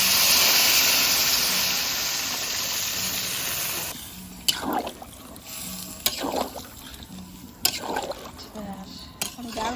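Water poured into a hot pot of duck curry with kohlrabi, peas and chickpeas over a wood fire makes a loud rushing hiss. It then settles into quieter bubbling broken by a few knocks of stirring.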